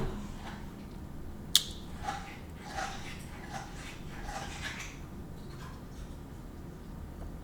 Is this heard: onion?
no